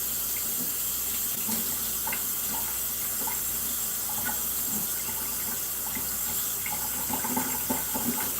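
Tap water runs steadily into a sink while a head of vegetables is rinsed, a continuous close splashing hiss with faint shifting patters as the water hits the leaves, with no voices.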